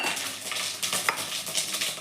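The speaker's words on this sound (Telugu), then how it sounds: "పల్లీలు ఇవి కొంచెం సిమ్లో పెట్టేసి ఇవి కొంచెం వేగించాలి" Peanuts, urad dal, chana dal, cumin and mustard seeds fry in oil over a low flame for a tempering, giving a steady close sizzle dotted with a few light clinks of stirring, with no voices.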